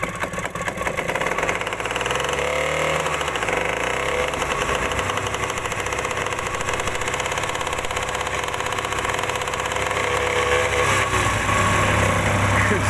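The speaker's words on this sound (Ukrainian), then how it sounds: "Ніколи не видно, як заводиться Т-150" A T-150 crawler tractor's diesel engine idles just after starting, a steady loud knocking rumble that stays even throughout, heard up close with no talk.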